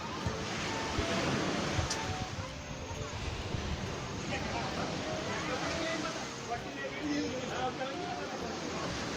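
Sea waves wash steadily onto a beach, a continuous broadband surf roar with wind noise buffeting the microphone, while people talk faintly in the background throughout.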